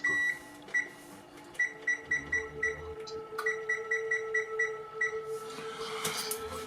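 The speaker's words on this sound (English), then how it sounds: "let me set the timer here" Kitchen timer beeping in short, rapid, evenly spaced electronic beeps as its buttons are pressed, heard in two bursts over a low steady hum in a home kitchen; near and moderately loud, with no talking.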